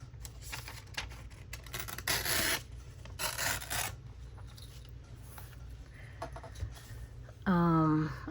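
Paper being torn by hand for a creative journal page, with two longer ripping strokes and softer rustling and handling noise over a steady low hum, close and fairly loud.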